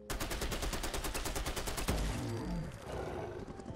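M60 E3 machine gun in Fallout 4 fires a dense, rapid burst of loud shots from close range for about two seconds, then a heavy boom and rumbling echo trail off.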